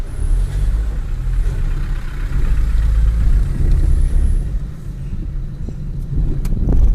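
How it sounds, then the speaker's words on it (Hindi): Heavy road traffic in Tilwara market, with cars, trucks and buses passing nearby as a continuous loud rumble and engine drone, and a brief air-brake hiss near the end. "ज़्यादा रहता है यहाँ पे, बहुत ज़्यादा ट्रैफिक।"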